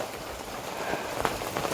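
Steady rain pattering on a surface, a continuous soft hiss with scattered drop impacts, fairly close and even throughout.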